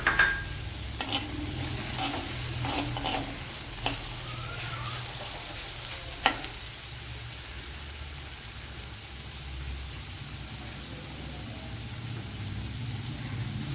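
Onions and tomato fry and sizzle steadily in a pan for a Kerala-style mackerel fish curry with drumstick, with a few soft spoon scrapes and stirring taps near the start over the constant hiss.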